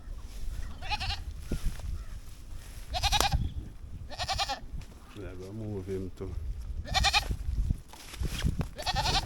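A female goat bleats several times in loud, wavering calls among other livestock, while someone talks over the animals close by.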